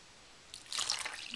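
Warm water is poured into a well in flour for bread dough, a soft, brief trickle and splash that starts after a moment of near silence and stays quiet.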